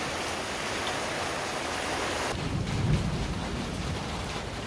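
Steady rain drums on recycled roof panels of a patio cover, a dense continuous hiss with a low rumble swelling briefly partway through.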